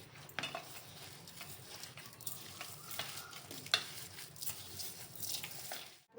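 Farali cutlet mixture being stirred and mixed after a squeeze of lemon juice, soft scraping and patting with small clinks of utensils against a bowl, close and fairly quiet, with no talk.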